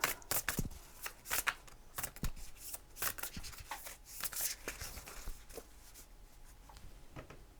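Oracle cards being shuffled by hand to draw one more, with a soft, continuous close riffling and flicking of card stock, quiet and steady with no voice.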